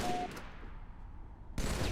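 Dense rattle of gunfire and explosions from a competitive shooter video game, a continuous loud barrage for about a quarter second, then a sustained rumbling decay, then another sharp burst at the end.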